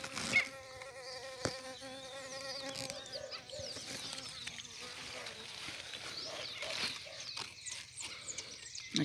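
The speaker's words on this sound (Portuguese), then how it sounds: "Outra abelha polinizando." Bees buzz around pumpkin flowers in a garden, a soft continuous droning hum close by, with a person talking over it.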